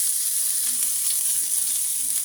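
Sliced onion and coriander leaves sauté in a hot pan for drumstick paratha filling, a steady bright sizzle and hiss, close and continuous with faint stirring.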